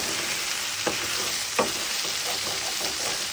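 Beef Szechuan and vegetables stir-fry in a pan with a loud, continuous sizzle, broken by a couple of scraping stirs against the pan bottom, close and without voices.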